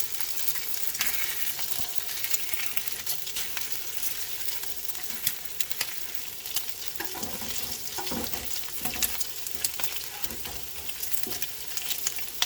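Sausage and bacon frying crispy in a pan, a dense steady sizzle and crackle with occasional stirring scrapes of a utensil, close and continuous.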